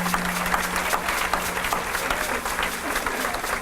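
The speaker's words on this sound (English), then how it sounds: "we should give them a round of applause" Audience applause at a teacher of the year banquet, steady dense clapping from a crowd throughout, moderately loud and continuous, with a low hum underneath.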